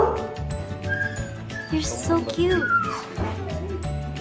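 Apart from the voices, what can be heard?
puppy barking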